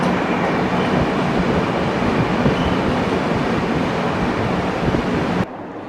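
The Rajdhani Express rumbles steadily at speed through the long Karbude tunnel on the Konkan Railway, a loud, enclosed roar heard from inside the train with no pauses.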